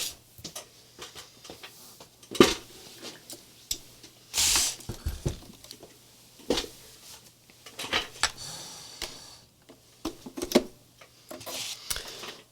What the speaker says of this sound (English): I'm going to get my sewing machine again